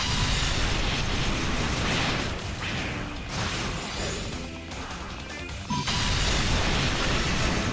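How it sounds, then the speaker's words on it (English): A dense, crashing explosion effect from the PC action RPG Ys Origin rumbles loudly and almost without pause, with scattered bursts and a sharper burst near the end. "I love that explosion effect."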